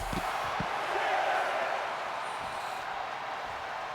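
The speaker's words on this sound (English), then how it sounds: "Crowd going crazy here at a World Class Wrestling Arena here" A wrestling arena crowd roars and cheers in a steady, dense wash of noise, swelling slightly around the middle, with a few dull thumps near the start.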